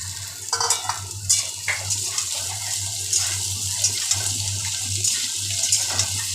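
Potatoes sizzling in hot oil in a pan over a medium gas flame, a steady frying hiss with bubbling crackles and occasional stirring clatter, close and continuous without speech.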